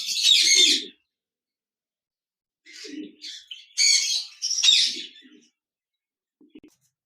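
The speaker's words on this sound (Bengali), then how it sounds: "এখানে দেখতে পাচ্ছেন অনেকগুলি কোকাটেল পাখি রয়েছে" Sharp, squawky cockatiel calls come in short bursts separated by silence, nearby and fairly loud, from a group of cockatiels.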